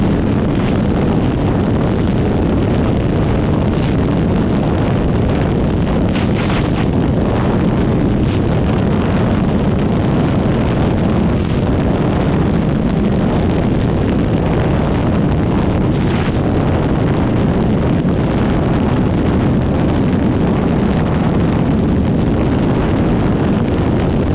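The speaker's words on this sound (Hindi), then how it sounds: "बहुत मुश्किल है, हवा बहुत चल रही है इधर से" Heavy wind noise roaring over the microphone while riding a motorcycle in sixth gear during a performance test, a loud continuous rushing blast with no break.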